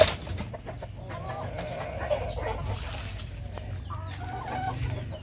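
Native and US silkie hens cluck softly and intermittently at a moderate distance over a low, steady background rumble.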